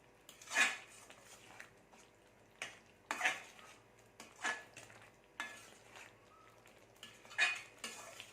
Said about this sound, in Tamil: இது நல்லா கொதிக்கட்டும் கிளறி விட்டுக்கிட்டே இருக்கணும்